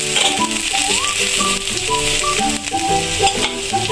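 Chopped garlic frying in a little white oil in a pan gives a steady, close sizzle that runs the whole time, with a melodic backing track underneath.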